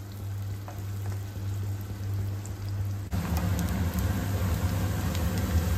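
Chopped onions frying over full heat in a pan, a steady close crackling sizzle that grows louder and denser partway through, with no voices.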